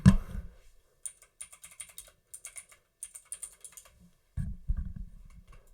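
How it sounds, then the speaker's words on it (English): Typing on a mechanical computer keyboard, with irregular bursts of sharp clicky keystrokes separated by short pauses and a couple of louder thumps, close and alone without talk. "Sorry for my typing there, Oracle."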